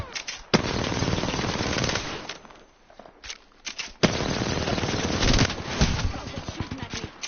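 Sustained automatic gunfire from the video game Apex Legends, loud and dense bursts with a short lull in the middle before another long volley.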